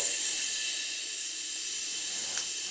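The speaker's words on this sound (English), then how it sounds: "Just clean the airbrush out really quickly" Airbrush being sprayed clean gives a steady, close, fairly loud hiss of air that stays even throughout, with no other sounds.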